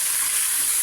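Beef mince frying in a pan for shepherd's pie, a steady close hiss and sizzle that holds at an even level throughout with no talk over it.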